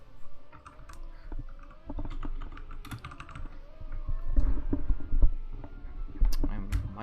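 Rapid, uneven typing and clicking on a computer keyboard, close-miked with a microphone sitting in the way, with quiet voices chatting in the background.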